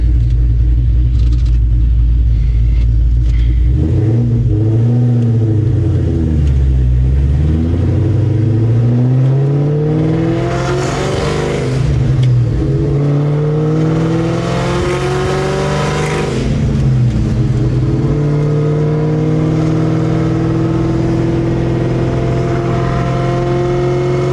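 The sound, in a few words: cammed Mustang Terminator Cobra engine revving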